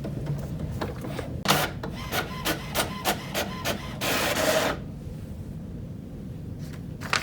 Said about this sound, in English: After a few minutes, your printer will realign and you're back in business.